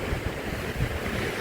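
Strong Chinook wind gusting in remote Alaska, a dense, continuous rushing roar with buffeting low rumbles against the microphone, no voices.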